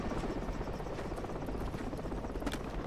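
A helicopter in a war video game drones on with a dense, rumbling rotor chop. The sound is steady and fairly faint throughout, with no talk over it.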